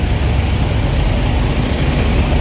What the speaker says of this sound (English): that truck right there is loud as hell